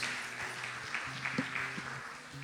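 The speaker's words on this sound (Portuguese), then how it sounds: "Você pode aplaudir ao Senhor?" A congregation applauding during a Sunday morning church service, steady broadband clapping throughout with tonal music or organ notes sustained underneath.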